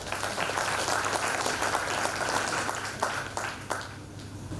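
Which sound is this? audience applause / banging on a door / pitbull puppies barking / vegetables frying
audience applause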